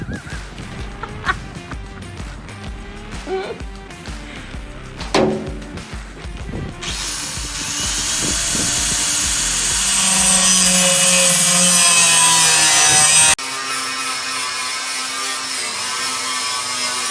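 Power tool cutting a steel part for a fuel tank breather on a salvaged 65ft steel boat, starting as intermittent clattering knocks, then settling into a loud, steady high-pitched grinding whine for several seconds before dropping to a lower hum.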